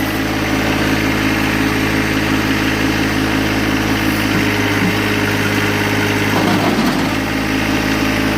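A John Deere 1025R compact tractor engine runs at a steady, even idle close by while it lifts homemade bucket forks, with a constant vibrating hum throughout.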